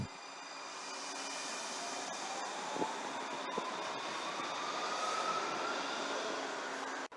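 A Randstad Rail low-floor tram rolls past a raised subway platform with a steady, broad rumble and a faint rising whine throughout, a few light knocks along the way, ending abruptly.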